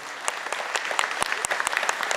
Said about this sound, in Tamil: எல்லாம் ஒரு வாட்டி நல்லா கைத்தட்டி ஒருத்தர் வாழ்த்துப்போம்.